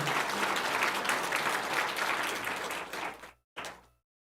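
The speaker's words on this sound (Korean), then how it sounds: "예, 환영합니다. 박수해 주세요." A church congregation at a Sunday morning service claps warmly to welcome members, a full and steady applause that cuts off abruptly, followed by a brief final burst.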